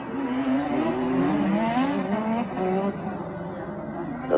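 1988 Formula 1 cars race at Monaco into the Mirabeau corner, their high-revving engines whining in shifting, rising tones. The sound is steady and mid-distance, with a commentator talking over it.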